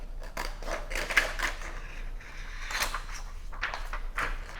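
Scissors snipping through a heat transfer sheet, a series of quiet crisp cuts and rustles in a fairly quiet indoor setting.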